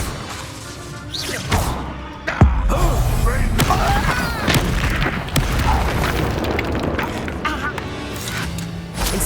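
Fire spell blast in the video game Hogwarts Legacy, a loud sudden boom near the start followed by sustained crackling roar and crashing impacts, with game voices mixed in.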